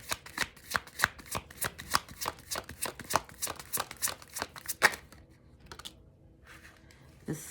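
Tarot-style cards are shuffled for a reading, with a rapid run of close riffling flicks for about five seconds, then a pause and a few soft isolated taps.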